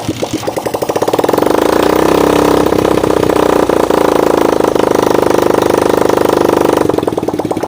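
Bajaj CT125 motorcycle engine freshly rebuilt after a top overhaul, running steadily up close with a loud, rapid mechanical chatter and no talking.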